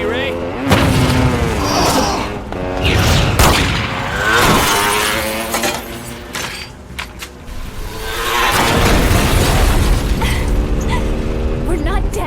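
Gunfire and explosions in a film action scene, heavy booming blasts and bursts swelling and fading over a dense mix with shouting voices, loud and close.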